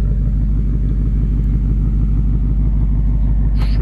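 A 2024 Ford Mustang Dark Horse with quad exhaust idles with a deep, steady, loud rumble close to the microphone, holding an even low throb throughout with no voices.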